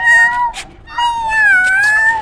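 A hungry cat meows twice, drawn-out and tonal, close by, with a short pause between the cries and no talking.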